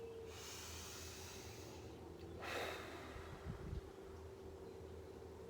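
Slow, audible breaths drawn in and let out, a soft airy inhale swelling in the middle followed by a gentle exhale, close and quiet with a faint steady hum behind.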